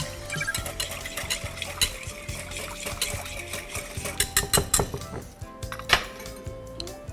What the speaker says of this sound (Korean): 잘 저어주세요.